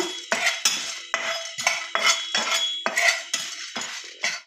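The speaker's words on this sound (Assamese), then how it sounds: "জিৰা গুটি আৰু ইলাচি, জালুক, জলকীয়া এইকেইটা মই অকণমান ভাজি ল'ম।" Cumin seeds, cardamom, black pepper and chillies are dry-roasted in a pan, with about nine rhythmic scraping, clinking stirs of a metal spoon against the pan, close and distinct.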